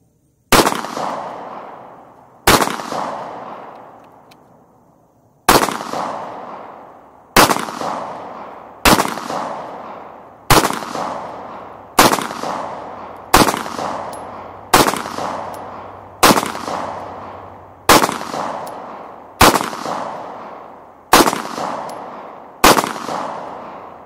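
Pistol shots from an HK VP9 at an outdoor range, about fourteen loud, sharp cracks spaced roughly every one to three seconds, each trailing off in a short decaying echo, with no talking.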